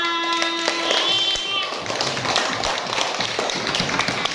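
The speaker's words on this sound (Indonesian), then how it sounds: "Kita tepuk tangan." Classroom group clapping together after a student presentation, a busy patter of hands that follows a teacher's talk and carries on to the end.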